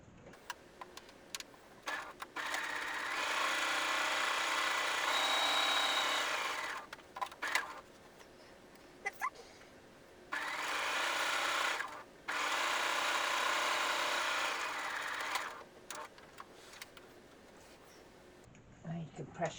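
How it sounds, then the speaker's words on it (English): Sewing machine stitching pieces of fabric together for a bread bag, running in two long steady bursts with short pauses and small handling noises between them, close and fairly loud. "What we need to do now is basically just sew 2 together and those 2 together."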